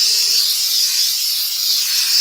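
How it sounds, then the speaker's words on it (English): A steady, continuous hiss of an aerosol brake cleaner can discharging on the rear brakes of a 2004 Volvo XC90, loud and close, with no pauses or voices. "just take some brake clean, spray it down."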